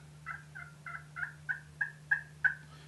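A Ring Zone turkey call imitating a turkey hen's chirp, eight short evenly spaced clucks that grow slightly louder across the run, close and alone over a faint steady hum.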